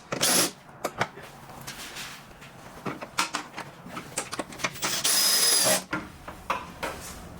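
A drill on a low setting tightens the rear bolts of a TRD rear diffuser on a 2020-2024 Toyota Camry, with short whirring bursts, a longer run near the end, and clicks and clatter between them.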